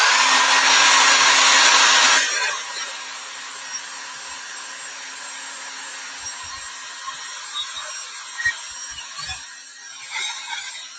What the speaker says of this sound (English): I'm going to blow dry this section like